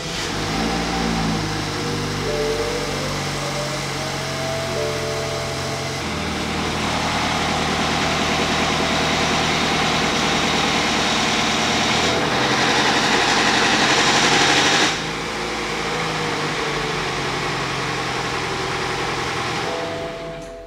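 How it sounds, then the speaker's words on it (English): A BMW engine with a failing timing chain runs steadily at close range, a continuous mechanical drone with rising and falling tones, briefly swelling louder around the middle before settling back to a steady run. "The issue on this car is the timing chain."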